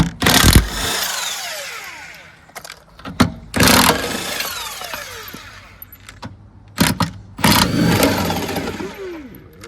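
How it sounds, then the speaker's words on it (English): A Kobalt 24 volt cordless impact wrench pulls lug nuts on a Mitsubishi Montero spare tire mount, firing in several loud, short hammering bursts separated by quieter gaps with faint handling noise. "Cordless impact of choice, the Cobalt 24 volt."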